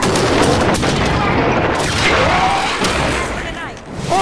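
Halo 5 combat with dense, loud gunfire and booming blasts as a Knight's cores explode, a continuous close barrage with shouted voices over it.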